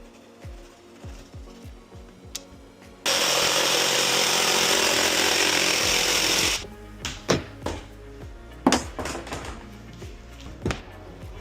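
A power saw cuts a small section from a plastic 120-litre underslung water tank for a Ford Transit, giving a loud, steady roaring whine for about three and a half seconds, framed by light knocks and clicks before and after.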